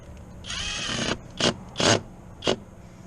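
Bolts on the starter solenoid of a 1991-1996 Ford Escort GT with a 1.8L engine are tightened with a hand tool. A sustained close metallic whirring burst is followed by three short sharp clicks, with no talk.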